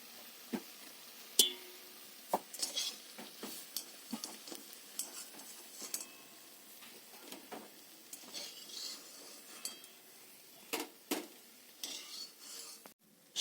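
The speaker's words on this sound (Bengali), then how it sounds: "এবার আমি কড়াই থেকে তুলে নেব।" Fried fritters being lifted out of a wok of oil: soft lingering sizzle with scattered light clinks and scrapes of a slotted spoon against the metal pan, fairly quiet and close.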